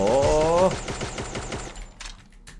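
Rapid automatic bursts from a CG15 gun in the Free Fire video game, a dense stream of close, loud shots with a rising tonal effect early on that thins into scattered cracks, with no talk over it.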